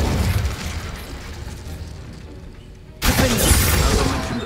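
The Incendio fire spell is cast in Hogwarts Legacy. A sudden loud, fiery burst cuts in over dense, steady game noise and stays bright and sustained to the end.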